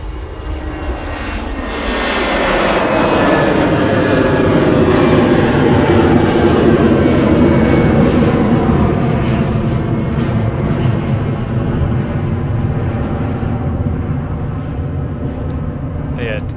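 An easyJet Airbus A320 Classic jet departs for Belfast from Manchester Airport, its engine roar swelling after two seconds into a loud, sustained broadband rush that holds steady to the end, with talk underneath.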